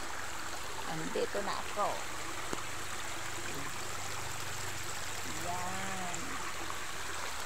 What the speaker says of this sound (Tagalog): ang ganda tingnan ng falls dito. Yan, parang batis.